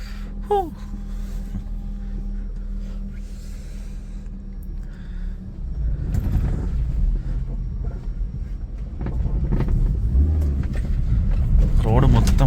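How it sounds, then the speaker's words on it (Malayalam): A car starts in a home porch and its engine rumbles as it is backed out, the low motor noise growing louder and rougher partway through, with people talking nearby. "സ്റ്റാർട്ടാക്കിയേ അപ്പോൾ അതിൽ വണ്ടി പോർച്ചിൽ നമുക്ക് അങ്ങോട്ടൊന്ന് ഇറക്കിയിടാം"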